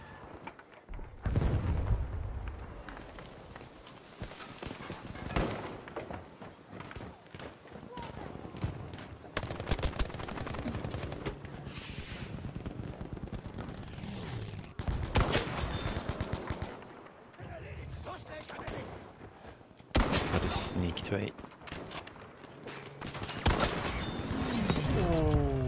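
Arisaka rifle shots in Battlefield V, several sharp, loud single cracks spaced apart amid background gunfire and battle noise, with people talking over parts of it.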